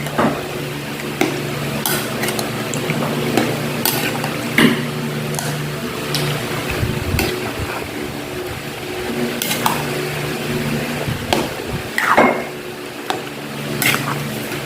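A spoon stirs food in a pan during home cooking, with repeated scraping and clinking strokes over a steady low sizzle, close and fairly loud, with no talking.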